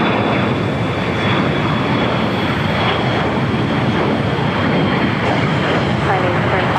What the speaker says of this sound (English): There's the Dreamliner now on taxiway Bravo heading to 25 right